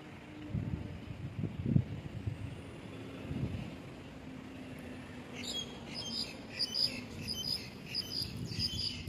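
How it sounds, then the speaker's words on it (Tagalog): Faint bird chirps twitter high and quick in the latter half, over a low rumble of distant traffic outdoors near a bus stop and the sea. "Gandang pakinggan ng mga huni ng ibon."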